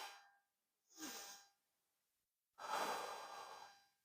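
Slow, deep breathing during a yoga stretch for the sacral chakra: a soft exhale fading out, a short inhale, then a long, fuller breath after a pause, close and quiet with no talk.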